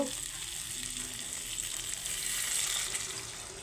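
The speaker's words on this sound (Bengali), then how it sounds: "অনেকটাই জল দিচ্ছি যেহেতু পাতলা ঝোল হবে" Water streaming into a pan of frying potato curry for a thin gravy, a continuous hissing sizzle with a steady pour, moderately close and alone.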